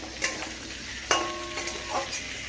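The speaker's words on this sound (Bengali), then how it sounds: "তরকারিটাকে আমি ভালো করে মিশিয়ে নিচ্ছি" Vegetable curry with fish oil-fat pouches is stirred and mixed in a pan over the heat, giving soft scraping strokes over a steady low sizzle, with a sharper scrape partway through and no talking.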